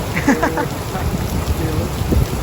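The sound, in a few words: rain while sheltering at a petrol station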